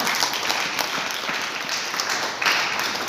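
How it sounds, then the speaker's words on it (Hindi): Loud, continuous applause from a large audience at a Modicare business gathering, a dense steady roar of many hands clapping at once, with no talking over it. "एक जोरदार ताली होना चाहिए"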